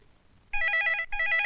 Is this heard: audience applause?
no